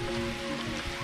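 Rain falls steadily outdoors as a dense, soft hiss of drops at low level, with no talking over it.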